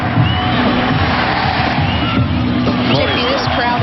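A large stadium crowd at Stanford roars and cheers steadily throughout a Women's World Cup semifinal between the USA and Brazil, loud and dense, with shouts and whoops rising out of the mass.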